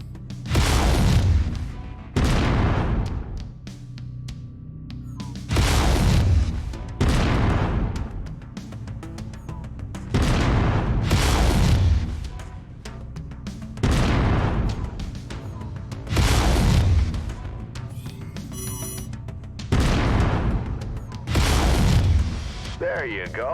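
Heavy weapons fire hitting a mech in MechWarrior 5, a string of loud booming impacts coming about every two seconds, each dying away, under a voice talking.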